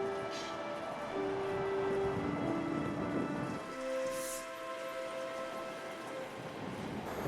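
A CSX freight train rolls through near Atlanta with heavy power working on the head end, a steady broadband rumble carrying sustained horn-like tones that shift partway through, fairly loud and close, with no one talking.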